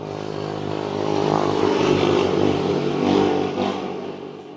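A motorcycle engine runs steadily close by, its broad rumbling drone swelling and easing slightly as it revs, with no voices over it.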